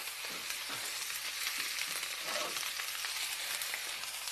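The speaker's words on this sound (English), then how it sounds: "We are left to sear the meat." Lamb chops sear in a hot pan with a steady, moderately quiet sizzle and crackle, with faint spatters running throughout.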